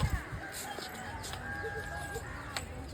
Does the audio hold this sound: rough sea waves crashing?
no